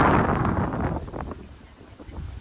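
Wind gusts at a Florida coast near a lighthouse, a loud blustery rush hitting the microphone that fades to a softer breeze.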